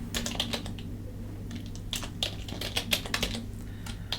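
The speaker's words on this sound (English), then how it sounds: "typing it here as well" Computer keyboard typing in irregular bursts of quick key clicks over a steady low hum, fairly close, with no voices.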